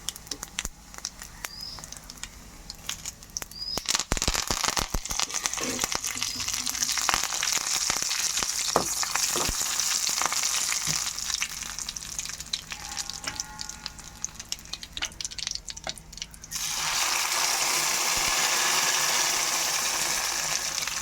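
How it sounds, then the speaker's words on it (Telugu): Cumin, mustard seeds and curry leaves crackle and sizzle in hot oil for a cooking tempering, a loud steady frying hiss with sharp pops, growing brighter near the end, and no voices. "కొద్దిగా జీలకర్ర, కొద్దిగా ఆవాలు, ఈ చట్పట్లాడిన తర్వాత కరివేపాకు వేసుకోవాలి."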